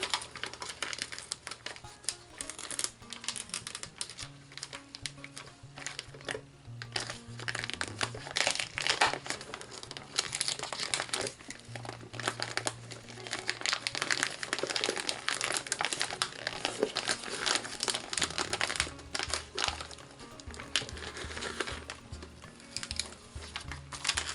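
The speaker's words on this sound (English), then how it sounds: "So we should be able to simply peel off this contact paper." Contact paper is peeled off the bottom of a silicone mold, giving a long run of close, dense crinkling and crackling with short pauses, no speech.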